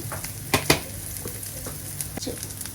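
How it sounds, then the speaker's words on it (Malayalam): Turmeric, chili and coriander powder roast in a pan of oil for a Palakkad-style pappada puli, giving a steady close sizzle, with a few sharp spoon clicks against the pan near the start and no talk. "ഇനി ഈ പൊടികളൊക്കെ ഒന്ന് നന്നായിട്ട് ഇതിൻ്റെ കൂടെ ഇട്ടൊന്ന് മൂപ്പിച്ചെടുക്കണം"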